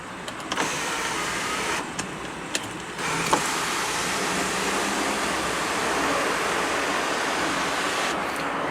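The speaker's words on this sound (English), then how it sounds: "This particular F150 does have the optional electronically sliding and tilting moonroof." Inside a 2012 Ford F150 FX4 pickup, the optional electric moonroof motor whirs steadily as the glass slides and tilts, a continuous hum broken by a few faint clicks, with no talking.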